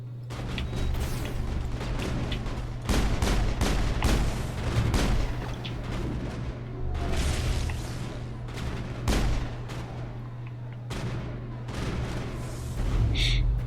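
Gunfire and explosive booms from the video game Mass Effect 3, in a Citadel combat scene: repeated loud shots and blasts in bursts over a steady low hum, with voices talking in places.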